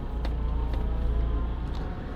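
A camper van reverses slowly along a narrow one-lane coastal road near Kotor, Montenegro, its steady low engine rumble filling the clip with a few faint clicks above.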